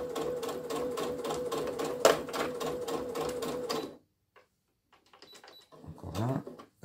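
Close and fairly loud, a sewing machine stitches a fabric bookmark in rapid regular bursts for about four seconds, stops, then gives a few short slower stitches.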